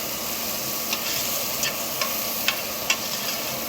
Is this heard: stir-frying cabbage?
yes